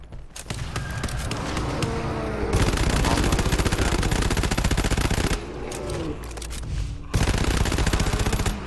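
Rapid gunfire in the GTFO video game, dense repeated shots rattling in long bursts, with brief pauses between volleys and loud, close impacts.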